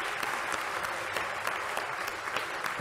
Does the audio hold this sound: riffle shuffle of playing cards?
no